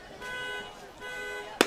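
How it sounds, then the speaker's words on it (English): A car alarm sounds from the Lowell Park parking lot during a Cape League baseball game, a pulsing electronic tone that rises and falls twice, followed by a sharp crack near the end. "As you can hear a car alarm going off back in the Lowell Park parking lot."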